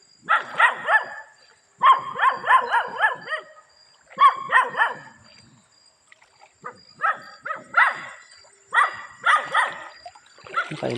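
A dog barks in repeated bursts of several sharp, close barks separated by short pauses, loud and clear against a quiet background with a faint high whine.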